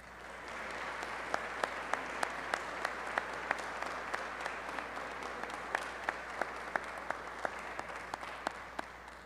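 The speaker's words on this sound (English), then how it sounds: "it's your turn to clap for all of those in the audience who have helped you get this far" Graduating high school seniors clap for the audience at a commencement ceremony, producing a continuous wash of applause in a large space, with a few sharper individual claps standing out at a fairly even pace.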